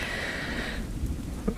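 Steady rain on a surface with a low rumble of distant thunder beneath it, continuous and fairly loud throughout with no voices.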